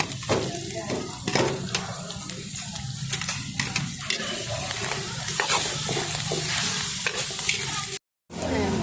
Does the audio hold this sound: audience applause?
no